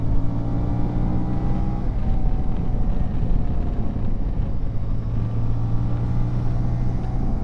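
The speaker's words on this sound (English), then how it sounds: "Sport riding on the Ibex 450" Ibex 450 adventure motorcycle riding steadily on a road, with a continuous engine drone, rising and falling tones and rushing wind noise held at an even, loud level throughout.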